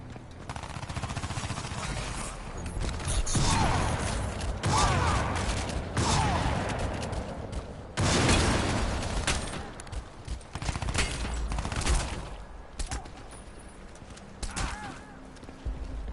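Gunfire from weapons in Crysis 2 on PS5, a dense, loud run of shots and bursts that fills most of the stretch, with brief lulls between volleys.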